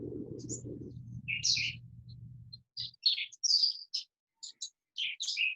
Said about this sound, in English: And inviting the birds to join us.